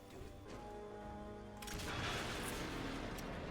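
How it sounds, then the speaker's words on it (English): A tower blown up with planted explosives in the video game Call of Duty 4 on Xbox 360 gives a loud, sustained rumbling blast that swells and roars for several seconds, with no speech over it. "Hold X to plant explosives on the tower by the cliff."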